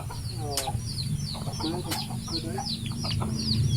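Backyard chickens clucking on a rainy farm, a series of short, close clucks and squawks repeating irregularly over a low steady rumble of background noise.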